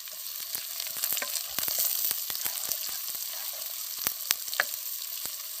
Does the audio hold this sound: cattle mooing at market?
no